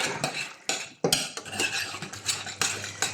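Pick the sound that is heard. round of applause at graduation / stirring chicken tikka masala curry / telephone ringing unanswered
stirring chicken tikka masala curry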